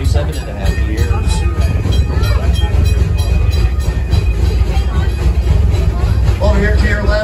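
Amusement park train ride at Six Flags Over Texas, a loud continuous rumble of rail cars rolling along with wheel noise and crowd clamour, people talking over it throughout.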